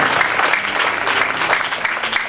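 A church congregation bursts into sustained, dense applause that fills the space, loud and continuous throughout, with a few voices faintly mixed into the clapping.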